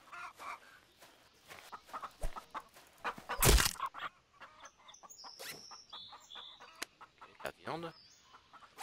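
Chickens in the survival video game Gone: Survival cluck in short, scattered bursts over several seconds, with a louder rustling noise midway and a person talking in between the clucks.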